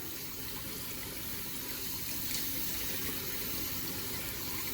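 Steady stream of cold water pouring into a bowl of milk powder, a continuous close splashing rush with no talking.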